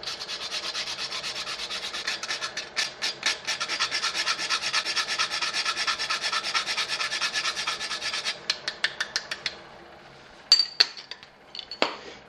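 A whole nutmeg is rubbed over a grater above pumpkin soup in steady, rhythmic rasping strokes, close and clear, slowing to a few scrapes before light metallic clinks at the end.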